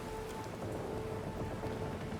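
Steady, dense rain from a storm beats on a ship's deck in the video game Pillars of Eternity 2, a continuous even hiss and patter with no pauses.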